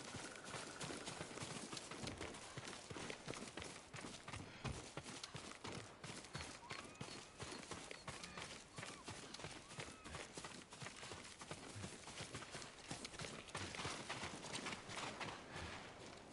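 Horse hooves clip-clopping steadily in the video game Ghost of Tsushima, a continuous rhythmic run of hoofbeats under a dense, loud game soundscape.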